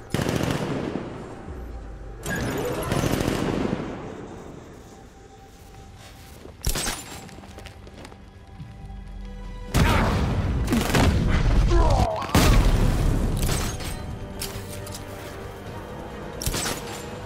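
Gunfire in Batman: Arkham Knight, with loud bursts of rapid shots and heavy booms coming in clusters, separated by quieter stretches, over game sound and with voices at times.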